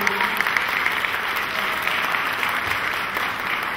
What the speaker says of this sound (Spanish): Fuerte el aplauso nuevamente, por favor.